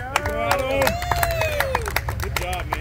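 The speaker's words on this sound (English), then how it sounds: "So, big round of applause." An audience at a golf tournament awards ceremony claps in scattered, uneven applause, mixed with voices and crowd chatter close by.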